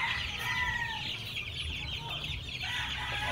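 Young chicks in a brooder pen chirp and cluck continuously in a dense, steady chorus, close and fairly loud, with no voices over them.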